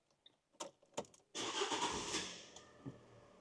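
A crashed Fiat 500 cranks and fires up after a few clicks and clunks, its engine catching into a steady idle that settles down, heard close and alone.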